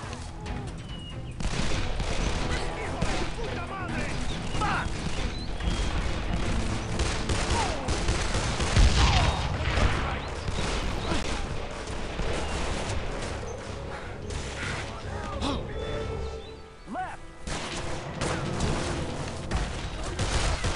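Sustained gunfight in a video game running on the Exagear Windows emulator for Android: dense volleys of overlapping shots and bursts throughout, loud and continuous with brief lulls, with faint voices now and then.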